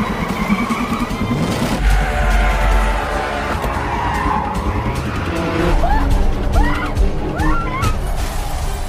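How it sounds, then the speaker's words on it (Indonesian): A film car chase in which a hijacked racing car speeds along with loud, sustained tire squeals and skidding over roaring engine noise, followed by rising screeches and some voices in the mix. "Sempat mencoba kabur dengan membajak sebuah mobil racing."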